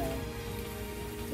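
Steady rain falls on a fishing pond, a dense, even hiss of drops close by with no breaks and no voices.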